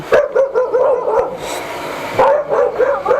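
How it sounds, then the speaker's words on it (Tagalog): A dog barks repeatedly in quick bursts, fairly close, with short pauses between volleys and a brief break midway. "Takot si ma'am sa aso."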